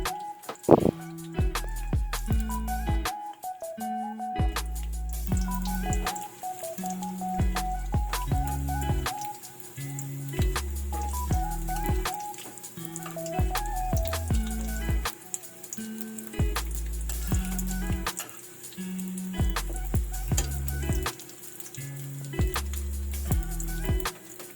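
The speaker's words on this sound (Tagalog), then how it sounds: "Kapag mainit na yung mantika, pwede nating ilagay yung mga wrapper na ginupit natin." Cut turon wrappers sizzle and crackle in hot cooking oil, with a steady close bubbling hiss and scattered popping spatters throughout, while music plays along underneath.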